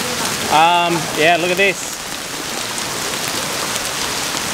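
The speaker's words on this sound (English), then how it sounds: "Big hail." Hail pelting a parked car during a sudden storm, a dense steady patter across the whole stretch, with a voice speaking briefly near the start.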